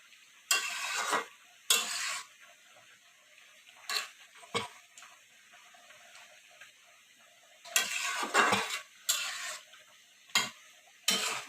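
Dried fish (shutki) cooks in a pan, with intermittent scraping and stirring bursts over a faint background sizzle, heard close and without talk.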